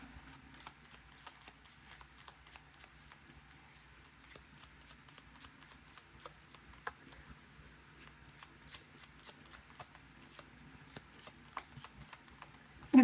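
Tarot cards are handled and shuffled during a reading, making a steady run of soft, close card flicks and slaps over a quiet room.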